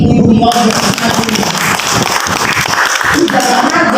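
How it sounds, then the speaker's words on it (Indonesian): An indoor audience at a parenting seminar breaks into dense, sustained applause for mothers who serve as police officers, loud and close for several seconds, with some voices mixed in. "Jadi tepuk tangan dong untuk ibu-ibu polisi"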